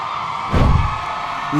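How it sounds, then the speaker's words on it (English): Hockey crowd at a Luxembourg vs. Philippines IIHF game erupts in a burst of cheering after a Philippines power-play goal, a loud swell lasting about a second over steady arena noise. "Listen to the crowd."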